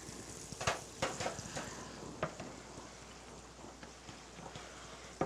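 Sliced onions fry in a pan with a soft, steady sizzle broken by scattered crackles and pops, fairly quiet and with no talking.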